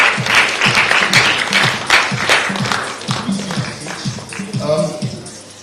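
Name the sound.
audience applause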